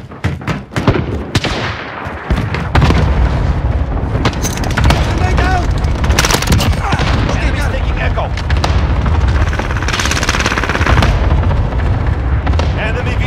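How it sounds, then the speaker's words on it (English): Allied cluster strike in Call of Duty Modern Warfare: a long rolling barrage of heavy booms and blasts, loud and continuous, layered with gunfire and battle chatter from voices throughout. "Allied cluster strike is coming."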